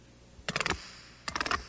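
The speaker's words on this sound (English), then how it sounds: "That sound is the disc that gives you a custom fit and improved performance." Puma Disc shoe's fit dial being turned, giving two quick bursts of rapid ratcheting clicks separated by a short pause, faint and close.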